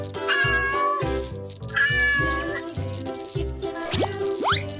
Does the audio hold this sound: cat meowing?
yes